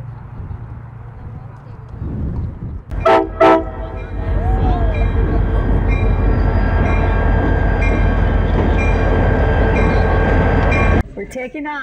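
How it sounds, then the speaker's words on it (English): A tourist excursion train pulls into a stop on a desert railway near Boulder City, Nevada, with two loud horn blasts followed by a heavy, rumbling engine and rolling wheels growing steady and close; brief talk is heard. "now we're gonna wait here for the train, to take the train back"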